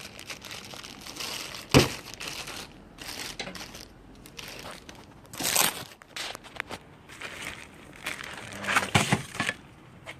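Well-taped product package being cracked open during an unboxing, with close crinkling, crumpling and sharp tearing snaps of tape and packaging scattered irregularly throughout.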